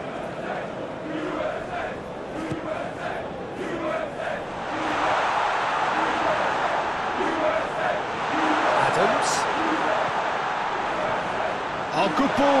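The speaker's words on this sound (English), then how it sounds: "Crowd appreciates good football all round there." Stadium crowd noise from an eFootball PES match, a steady broad roar that swells louder about halfway through and stays high, with a crowd-wide cheer rising over the background murmur.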